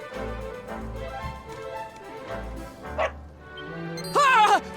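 A dog in Dragon Quest XI gives a short, sharp yelp and then a rising, wavering whine, heard over steady game music and ambience.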